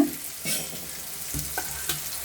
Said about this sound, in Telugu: అల్లం కూడా బాగా వేగాలి పచ్చివాసన పోయే వరకు